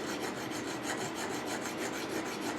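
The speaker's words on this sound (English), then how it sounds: "I'm back at the Austin. Just filing it." Steady rasping strokes of a file shaping metal on a Dinky Austin model car, fast even back-and-forth scraping, close and moderately quiet, with no voices.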